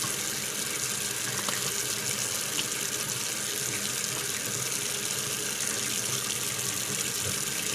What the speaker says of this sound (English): So now we are ready to rinse out our yarn.